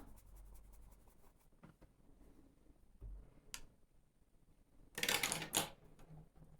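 Pencil scratching and scribbling over blended Caran d'Ache Neocolor crayon in soft bursts, with a louder, denser stretch of rapid strokes near the end.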